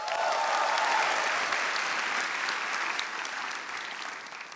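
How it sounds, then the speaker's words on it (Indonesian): Audience applause fills a stand-up comedy show, a dense, steady wash of clapping from a crowd that holds loud throughout and tapers slightly toward the end. "Tepuk tangan untuk 5 besar"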